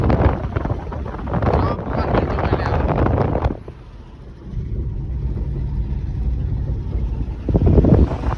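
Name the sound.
cold wind blowing at night in Titabor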